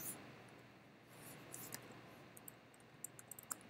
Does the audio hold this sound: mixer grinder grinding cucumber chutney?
no